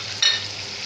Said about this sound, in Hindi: अब ये अच्छे तरीके से फ्राई हो जाएंगे।